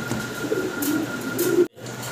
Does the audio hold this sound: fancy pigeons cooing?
yes